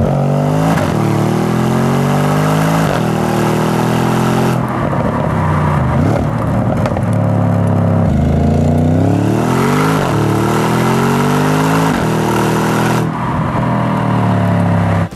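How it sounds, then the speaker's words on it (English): A loud, close exhaust of an Audi S6 with a Unitronic Stage 2 transmission tune roars as the engine revs up repeatedly, with sharp breaks at each gear shift and rising pitch between them. "Just listen to these nice crisp shifts from the exhaust."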